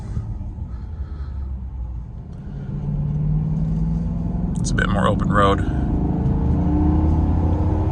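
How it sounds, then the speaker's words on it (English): A 2009 Maserati Quattroporte S Executive GT engine drones steadily while driving on an open road, its low rumble swelling slightly as the car gets out of traffic, with someone talking over it. "Car sounds amazing."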